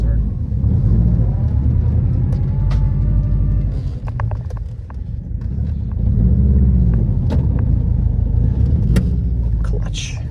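Subaru WRX with manual transmission driving, steady engine rumble and road noise filling the cabin throughout, with people talking over it.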